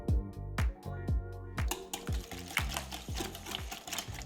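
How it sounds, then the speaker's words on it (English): Eggs whisked into ricotta cheese filling in a bowl, rhythmic wet clacking strokes close up, starting with evenly spaced beats and quickening into a faster, denser flurry. "I like to whisk in between adding each egg to make sure they're well incorporated"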